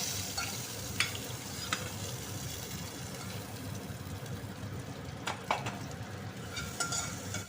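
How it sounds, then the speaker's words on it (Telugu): A tempering of onions, cumin, dried red chillies, curry leaves and mustard seeds is stirred into a dal tomato curry, with a steady sizzle from the pan and a few sharp clinks of the spoon against the pot. "వేసి ఈ విధంగా కలుపుకోవాలన్నమాట ఫ్రెండ్స్"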